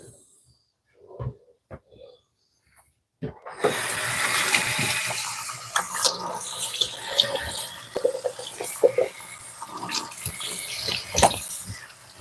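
Water running hard from a tap into a sink while someone rinses out their mouth, a steady close splashing rush that starts after a few quiet seconds and continues throughout.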